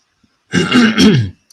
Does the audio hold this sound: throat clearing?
yes